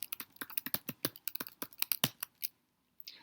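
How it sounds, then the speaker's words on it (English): Rapid typing on a computer keyboard, a quick run of close, crisp key clicks in an uneven rhythm, then a brief pause and a few more taps at the end. "I can type this."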